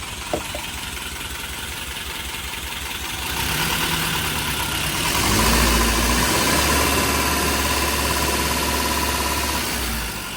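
A freshly rebuilt Toyota 22RE four-cylinder engine idles steadily, a low rumbling drone with a slight rise in level partway through, running alone without talk.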